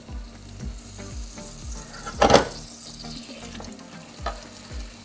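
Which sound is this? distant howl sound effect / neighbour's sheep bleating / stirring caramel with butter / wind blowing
stirring caramel with butter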